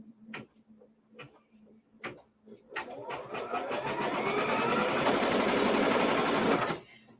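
An embroidery sewing machine stitches down fabric for a quilt block, starting with a few short bursts, then running steadily and loudly for several seconds with rapid mechanical ticking before stopping.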